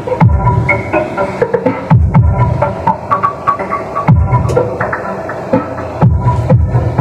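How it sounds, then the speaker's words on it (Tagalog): Deep throbbing subwoofer bass pulses from a Techno Master CA20 amplifier repeat in a steady pattern, with a low droning hum and buzzy overtones filling the space between beats. "Solid ng tunog ng sub."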